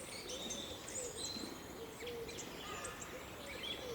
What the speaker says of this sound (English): God, that sounds like a huge bird or a giant something.